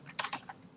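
Fingers tap a computer keyboard in a short, close burst of four or five crisp clicks at uneven spacing, with no talking.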